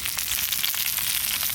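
Kadaknath chicken eggs frying on a large tawa with spice paste in turmeric leaves produce a loud, steady, close sizzle with fine crackles, uninterrupted throughout.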